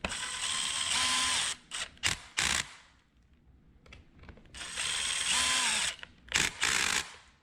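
DeWalt Xtreme 12V Max brushless screwdriver driving screws into metal, heard as two near, loud bursts of whirring motor, each about one and a half seconds, followed by short clicking pulses, with quiet pauses between.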